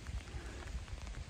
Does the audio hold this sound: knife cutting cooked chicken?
no